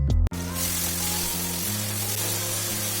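Masala with grated tomato and sugar fries in hot oil in a pan for a Bengali jackfruit curry. After a brief knock at the start, a loud, steady sizzle and spatter carries on without a break.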